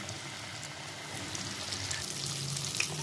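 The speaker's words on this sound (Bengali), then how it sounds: "এদিকে আমি তেল গরম করে নিয়েছি, এবার একটা একটা করে ভেজে নেব।" Fish fingers fry in hot oil over lowered heat, giving a steady, soft, close sizzle with faint crackles and no talking.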